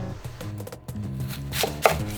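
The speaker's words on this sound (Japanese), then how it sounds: "今回は4分の1個をみじん切りにしていく。" A knife taps rapidly and steadily on a cutting board, finely mincing a quarter onion, with soft background music underneath.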